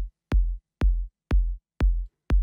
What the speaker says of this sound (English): So let me play the kick with the processing for you.